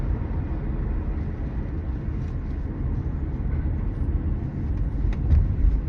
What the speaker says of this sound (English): I wonder where that car coming from